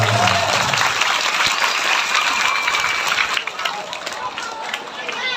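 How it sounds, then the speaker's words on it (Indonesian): Audience applause for the children at an Islamic religious talk, dense steady clapping from a crowd that carries through the whole stretch, fairly close and loud, with a voice speaking over it near the start. "tepuk tangan dong buat anak-anak kita"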